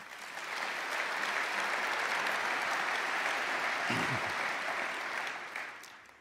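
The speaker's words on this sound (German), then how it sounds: "Applaus" Audience applause at a savings bank convention in Germany. A dense, steady wash of clapping swells in quickly, holds loud and even for several seconds, then fades out.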